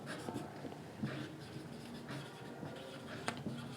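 Marker or chalk scratching across a board while a maths problem is worked out, short strokes and taps in an uneven rhythm, close and fairly quiet, with no talking.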